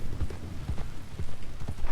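Horse hooves clip-clop in a fast, steady rhythm while galloping across terrain in the Western video game Red Dead Online, fairly close and heard alone.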